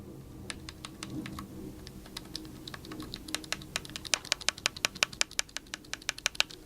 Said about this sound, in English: Sounds like a Wii A button.